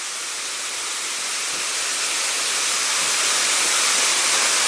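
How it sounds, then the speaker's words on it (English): Diamond Falls waterfall in Soufriere, St. Lucia, roaring as a steady broadband rush of falling water, close and continuous throughout with no talk. "Wow, that waterfall is amazing."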